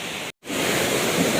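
Continuous rushing water, a steady broadband roar like a flowing river, broken by a brief cut to silence near the start.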